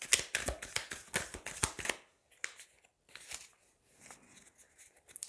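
Tarot cards shuffled by hand, a rapid run of crisp riffling flutters for about two seconds, then a few softer, scattered card slides and taps, close and quiet.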